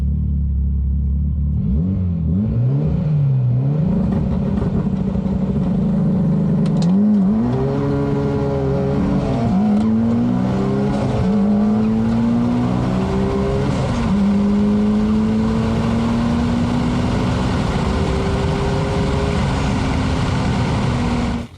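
A 4x4 work truck and a McLaren launch in a drag race on an airstrip, a loud roaring engine climbing through repeated gear shifts, revs rising and dropping in steps, steady and close throughout.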